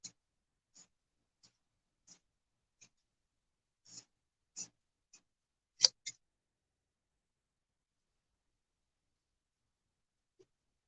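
Fabric pieces for a sewn Christmas fabric bin are cut with shears. About a dozen sharp, isolated snips come at irregular intervals in a quiet room, with a louder cluster near the end.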